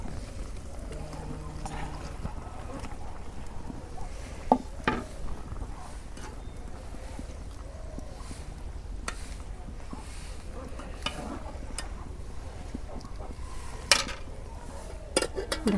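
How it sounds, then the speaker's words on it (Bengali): Fried pangas fish pieces going into a pan of tomato curry, with scattered clinks and scrapes of a utensil against the pan, a few sharper knocks, under a steady low kitchen background. "এখন আমি পাঙ্কাশ মাছ ভাজা রাখছিলাম দিয়ে দিই"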